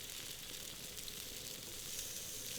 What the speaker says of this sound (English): With a spatula, give them a little shake around in the pan.